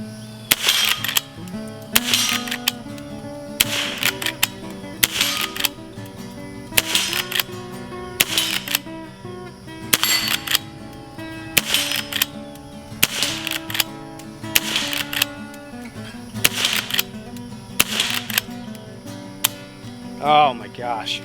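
A Marlin Model 39A Golden Mountie lever-action rifle fires about a dozen sharp shots at a steady, spaced rhythm, loud and close, with music playing underneath.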